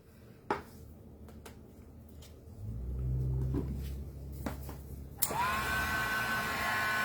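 An electric heat tool blows a steady rushing, whirring drone while heat-setting embossing powder on stamped paper, starting after a few clicks and building to a loud, close airflow sound.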